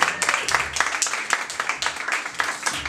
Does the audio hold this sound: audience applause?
yes